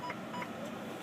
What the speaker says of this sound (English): So we hear our 2 beeps.